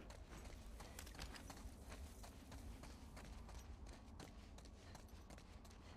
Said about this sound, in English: I hear the fucking horse behind you